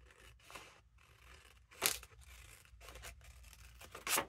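Scissors snipping through paper for a handmade junk-journal notebook, a few quiet close cuts with two sharper, louder snips standing out against a hushed room.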